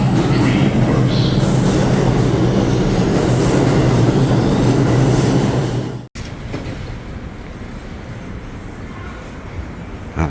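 A New York City subway train rumbles loudly at the Times Square station, its roar and clatter suddenly cut off partway through, followed by a quieter platform ambience with rolling wheel noise.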